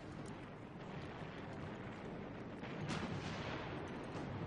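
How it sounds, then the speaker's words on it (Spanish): American tank guns fire in a Korean War battle, heard as a dense, continuous roar of distant rumbling blasts with scattered sharper reports and no voices. "Los australianos luchan fuertemente apoyados por los disparos de los tanques estadounidenses."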